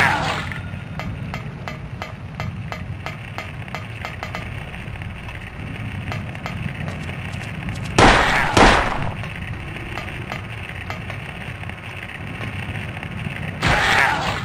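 Rapid popping gunfire from the video game Silent Hill, during a boss fight, crackles over a continuous background rumble, with heavier bursts of shots around the middle and near the end.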